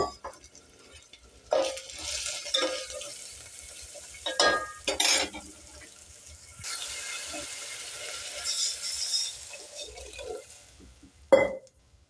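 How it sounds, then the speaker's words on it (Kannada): Water is poured into a hot pan of tempering for upma, giving bursts of sizzling and bubbling with a few metal scrapes and stirring clinks, close and fairly loud, rising and falling across the stretch. "ಈಗ ಒಂದು ಜರಿಗೆ ನೀರು ಹಾಕೀನಿ"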